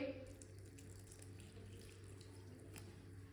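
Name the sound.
water being poured into paratha mixture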